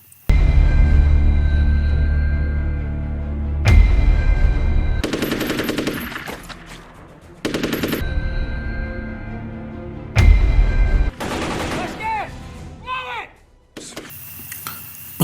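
Bursts of rapid gunfire rattle in loud, separated volleys, mixed with blasts and mechanical clatter, with a voice speaking between them.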